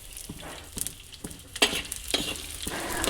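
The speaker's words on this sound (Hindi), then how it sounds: "ये भून लेते हैं अब। ये है गोंद, गोंद है ये, गोंद। देखो गोंद ऐसी हो जाएगा जी भून के।" Edible gum (gond) roasting in ghee for panjiri, crackling and sizzling up close, with repeated scraping stirs of a spoon against the pan in an irregular rhythm.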